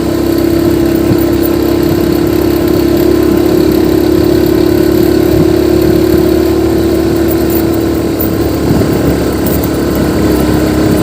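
A motorcycle engine revs hard and steady, a loud sustained drone that strains throughout with no voices over it.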